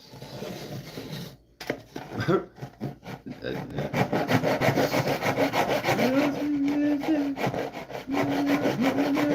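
A hand saw cuts purpleheart wood splines flush, first in a few scattered strokes and then in a fast, steady back-and-forth rhythm that stays close and loud throughout.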